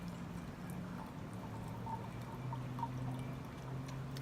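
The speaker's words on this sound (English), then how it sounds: "I am also going to pour a little bit of it in here" Huang Mei Gui Wuyi oolong rinse is poured into a small vessel, giving a soft, continuous trickle of liquid that is quiet and close, with faint clinks and no speech.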